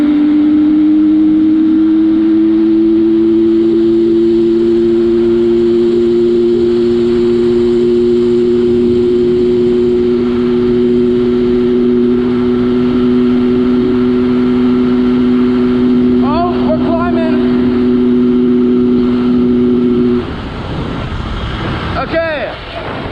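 A Yamaha PW80 dirt bike with an FMF exhaust and Boyesen reeds runs flat out on a long narrow road, a loud steady buzzing two-stroke drone held close for about twenty seconds before easing off, with wind noise and brief talk near the end.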